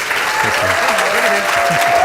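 Loud, close standing ovation from a debate audience, continuous dense clapping under a voice speaking over it.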